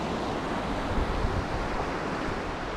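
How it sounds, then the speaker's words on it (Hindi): Cold wind blows steadily beside the Swat River in the Swat Valley, a broad, constant rushing roar with no breaks. "अभी काफ़ी ठंडी हवा चल रही है"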